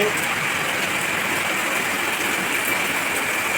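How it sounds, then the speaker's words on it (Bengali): Heavy rain pouring down in a rural Bengal setting, a constant dense hiss of water with no breaks and a voice faintly audible beneath it. "দেখো কেমন জোরে বৃষ্টি পড়ছে"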